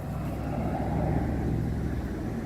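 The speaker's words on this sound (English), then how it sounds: "Excuse the noise with the cars going past." Cars drive past on a nearby road in a constant low rumble of traffic that fills the short stretch without pause.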